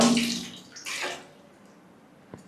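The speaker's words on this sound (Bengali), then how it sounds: "ম্যাডাম কাপড় ধুচ্ছি" Clothes being washed by hand in water, with two close splashing sloshes followed by quieter dripping and a small knock.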